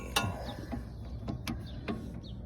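Torque wrench tightening a car's upper control arm bolt, giving a few sharp, quiet clicks spaced irregularly over a low background hum.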